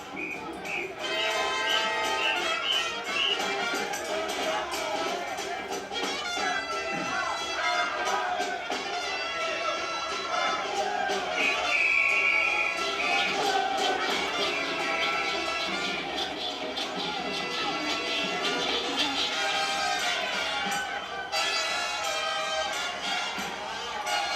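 West African style street parade with a brass band playing amid a dancing crowd, loud dense music with horns and percussion continuing throughout, crowd noise mixed underneath.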